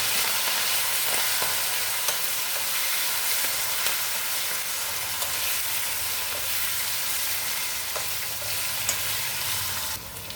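A tempering of green chillies, curry leaves, coriander and a pinch of asafoetida sizzles and fries steadily in a hot pan, a loud, continuous hiss that runs unbroken throughout with no talk.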